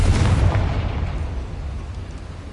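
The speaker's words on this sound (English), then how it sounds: "Confringo!" A Confringo fire spell blasting in the Hogwarts Legacy video game: one loud, heavy explosion with a deep rumbling boom that fades into a roaring tail over about two seconds, with no talking.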